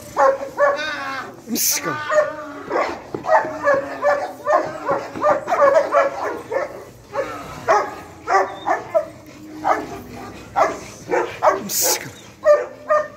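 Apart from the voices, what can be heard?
dog barking and whimpering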